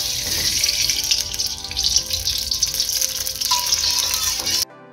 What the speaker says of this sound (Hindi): इसमें हम डाल देंगे ये ऑयल